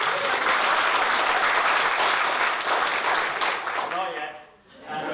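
A roomful of people at a keynote talk about crowd-sourced science projects claps loudly for Grant, dense sustained applause that tapers off near the end, a few voices audible as it fades.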